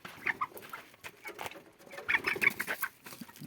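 Chickens at a rural home coop in Coorg, including a black Kadaknath hen, cluck in scattered, irregular bursts at moderate distance, with short squawky calls rising and fading.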